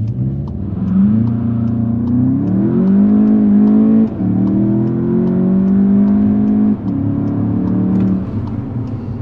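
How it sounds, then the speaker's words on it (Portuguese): Volkswagen Jetta GLi 2020 in sport mode accelerating hard from 0 to 100 with the air conditioning on, its engine note climbing steadily in pitch through several gear changes, loud and close with brief dips at each shift. "gente fazer aqui o 0 a 100, modo esporte, do Jetta GLE em drive"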